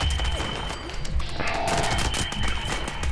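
Continuous rapid gunfire aimed at a legendary enemy in the video game Fallout 76, loud and dense, with overlapping shots and impacts throughout and no talking.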